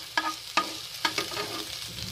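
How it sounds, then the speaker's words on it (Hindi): Garlic and ginger paste frying in oil in a pan, with a soft steady sizzle and a few sharp stirring scrapes at regular intervals. "अब हम इसमें लहसुन अदरक पेस्ट फ्राई करेंगे।"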